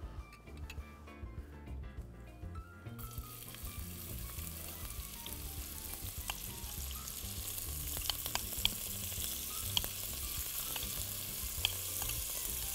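Chopped onions frying in hot oil in a pan, sizzling steadily and continuously at close range, with occasional sharp pops and crackles as the oil spits, filling the whole stretch without any talking.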